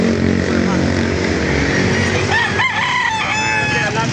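A seven-month-old Sweater breed rooster crows at a chicken market in Laguna, a loud, close, wavering crow standing out over crowd noise, with someone talking nearby.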